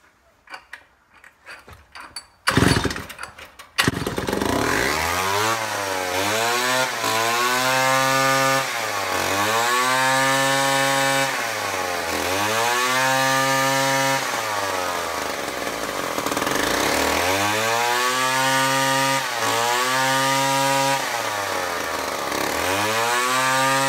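Homelite C5 chainsaw after a carburetor rebuild: a few pull-start tugs, then the engine catches and runs loud and close, revving up and down in repeated surges.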